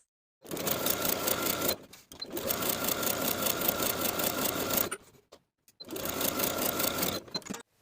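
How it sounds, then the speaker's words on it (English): A sewing machine stitches the outer and top edges of a blouse collar at a 3/8 inch seam allowance, running in three steady, loud bursts with short pauses between them. "Sew the outer and top edges with a 3/8 inch seam allowance"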